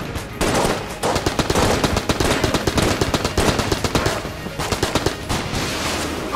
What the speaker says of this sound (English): they're still shooting stuff at me. My rockets, away please